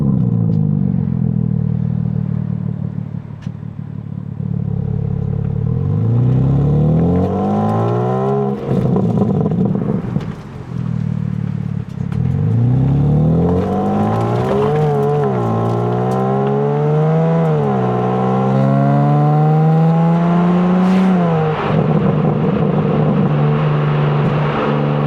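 A 2024 BMW M3 Competition engine revs hard and accelerates through several gears, its loud close exhaust note climbing in pitch, dropping at each quick shift, then rising again, with no talking.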